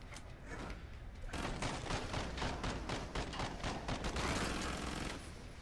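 Rapid automatic gunfire in a video game bursts in after a second and keeps up a dense, loud rattling stream for about four seconds before cutting off.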